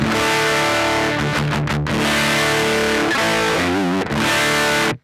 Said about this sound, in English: You can listen only the amplifier, so without the mic.